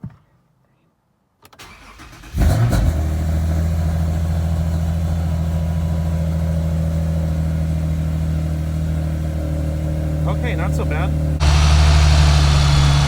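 A car engine fitted with a ported intake manifold and an oversized throttle body cranks, catches and settles into a loud, steady idle with a deep, even hum. Someone speaks briefly near the end as the idle rises slightly.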